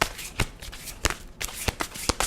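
Tarot cards being shuffled by hand: a series of crisp riffling bursts and sharp taps at an irregular rhythm, close and fairly loud with no talk.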